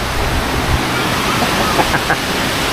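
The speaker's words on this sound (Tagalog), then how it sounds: "Pero ito patuloy na rumaragasa ang malakas na pag-ulan." Heavy rain pours down amid knee-deep floodwater, a loud, dense, steady hiss and rushing roar close by, with faint thumps underneath.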